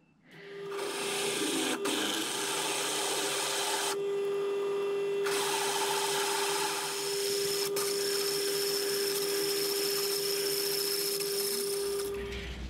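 A boring head on a milling machine cutting a one-inch bore in a steel part for a homemade crane, producing a steady close grinding, rasping hiss with a constant machine hum and a brief dip midway.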